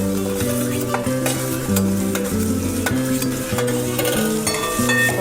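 Onion and tomato stir-fry for masala okra with a loud, continuous sizzle and repeated scraping strokes of a spatula, layered over a droning tonal hum.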